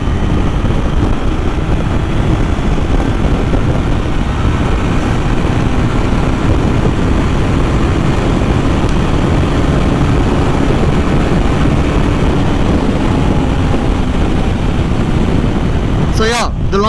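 A steady Triumph Thruxton 400 engine drone with heavy wind rush runs continuously, the motorcycle cruising at highway speed, loud and unbroken throughout.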